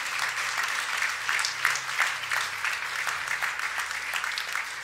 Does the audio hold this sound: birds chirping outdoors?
no